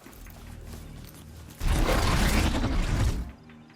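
A ridden robotic machine mount in Horizon Zero Dawn strides with clanking, whirring mechanical footsteps, quieter at first, then a loud, dense burst of metallic movement before it fades.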